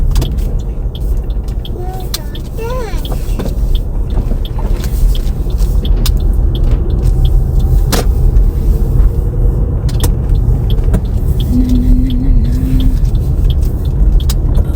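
Car interior on a road drive, with a steady low engine and road rumble throughout and a few brief faint tones and small rattles over the top, no talk.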